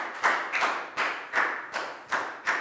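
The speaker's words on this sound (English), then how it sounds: "High five and a big round of applause for Pak Bung" A class of children claps a round of applause, several rhythmic bursts of many hands about every half second, close and lively, with no talk over it.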